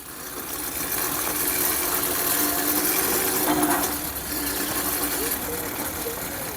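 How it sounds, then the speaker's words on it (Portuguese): A car alternator rigged as a bicycle motor whirs steadily and revs up, a continuous close mechanical whine with a brief surge midway, while someone talks over it. "Tá acelerando mesmo, igual o motor de bicicleta."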